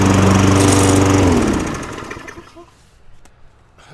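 An Ego 21-inch 56-volt cordless electric self-propelled lawn mower runs loud and close with a steady whirring hum, then winds down and fades to a faint rattle near the end.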